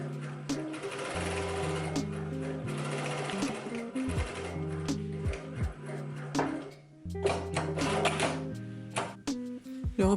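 A sewing machine stitches two front pieces of a skirt together right side to right side, running in loud steady bursts with short pauses and clicks between runs.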